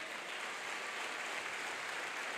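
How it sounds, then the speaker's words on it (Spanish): A church congregation applauds during a Spanish-language sermon, a steady wash of clapping heard from a distance at low level with no voices over it. "Dale un aplauso al Señor."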